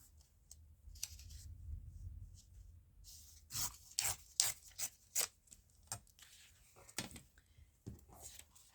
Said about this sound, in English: Just going to tear a piece off.